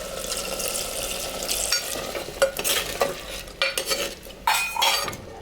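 A splash of water goes into chicken frying in gravy in a handi pot, the hiss building to a sizzle as a spoon stirs and scrapes, the clatters getting louder and choppier toward the end, with no talking.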